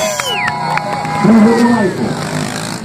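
A crowd cheers and shouts amid a noisy outdoor scene at a motorcycle stunt show, with a passing vehicle and whistle-like tones sweeping through.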